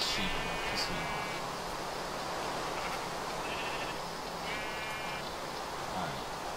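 Minecraft sheep give several brief, buzzy bleats at intervals, sitting over a steady hiss at moderate distance.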